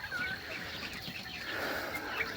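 Chickens on a chicken farm cluck and call faintly at a distance over a soft barn ambience, scattered short calls through the brief stretch.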